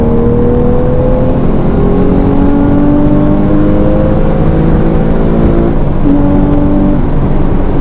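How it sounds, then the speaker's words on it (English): A Porsche 991 in sports mode with its engine intake note carried into the cabin, a loud continuous drone with rising and falling pitch as it accelerates and shifts gears, with no talk. "That intake noise does sound good"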